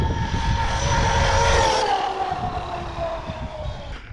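Traxxas Maxx RC truck on Sledgehammer tires with a WideMaxx kit, its electric motor whining steadily under throttle, loud and sustained with the pitch sliding slightly as it drives.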